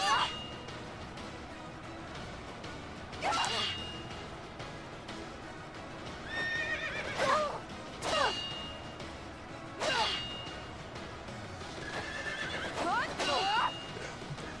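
Horses in the Fire Emblem: Three Houses video game neigh and whinny several times in loud, separate bursts over a steady background of hoofbeats and game ambience, with no speech.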